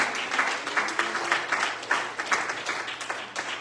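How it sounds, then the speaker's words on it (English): A church congregation claps their hands together in praise, the rhythmic claps close and steady, blending into a warm, sustained wash of applause with no talking over it. "we can clap hands unto the Lord"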